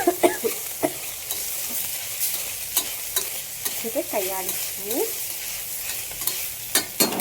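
Ground rice stirred into a pot of Tamil Nadu-style ganji, a spoon scraping in short, irregular strokes with soft wet sizzling and occasional knocks against the pot, close and alone with no talk.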